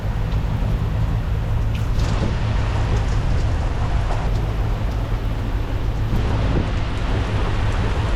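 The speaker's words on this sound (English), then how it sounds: "It's raining." Steady, dense rain hiss on a sailboat in a squall, with low rumbling wind or water noise underneath, continuous and fairly loud throughout.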